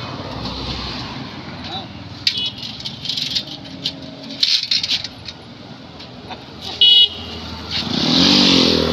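A motorcycle rattles and idles close by in short revving bursts, with brief horn-like beeps and a louder engine swell at the end, while people talk intermittently over it.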